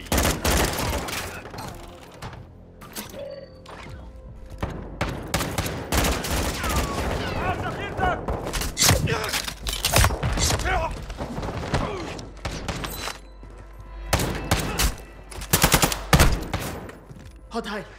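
Dense Call of Duty: Modern Warfare II DMZ firefight, loud bursts of rapid automatic gunfire and sharp single shots coming in clusters throughout, mixed with thuds and radio-style voices from the game.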